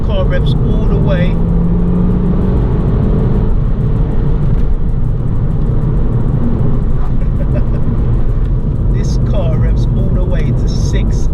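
A VW Golf GTI Mk5 engine drones loudly and steadily from inside the cabin as it revs toward 7,000 RPM, a continuous rough roar with road noise, while someone speaks over it.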